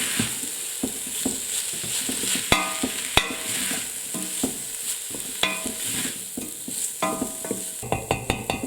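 Smoked bacon lardons frying in a pan for a red bean stew, a steady close sizzle broken by sharp scraping and clacking as a utensil stirs them in quick bursts, with no talking.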